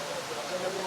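A steady broadband rush of water pours down a waterfall at an old resort in Antipolo. The flow holds constant and fairly close, while a voice seems to talk over it.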